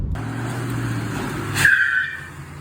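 A Ford Mustang's engine runs after its spark plugs were cleaned and gapped: a steady low idle hum, then a sharp high-pitched squeal swells briefly near the end before fading.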